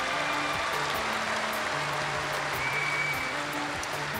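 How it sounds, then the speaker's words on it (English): An arena crowd at World Dairy Expo applauds steadily throughout, a thick, even wash of clapping with a faint hum beneath, heard from a distance. "give her a round of applause for that"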